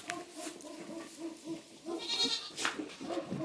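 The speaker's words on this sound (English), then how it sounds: "He's a big goat." A large, recently rubber-banded goat on a farm in Broome County bleats several times up close, with short nasal cries coming in an uneven series over soft farmyard background.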